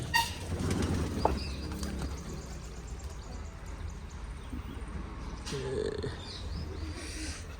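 Pigeons are released and fly off outdoors, with a few bursts of wing flapping and scattered bird calls over a faint, steady background.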